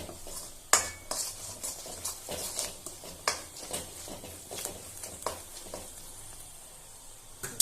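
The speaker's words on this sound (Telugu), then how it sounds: "గరం మసాలా వేసి బాగా కలపాలి" A spoon stirs garam masala into egg pachadi, an egg pickle, in a pan. Repeated scraping and clinking knocks of the spoon against the metal sound over a soft sizzle, irregular and fairly close.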